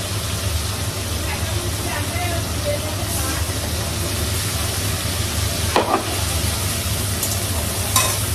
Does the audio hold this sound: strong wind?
no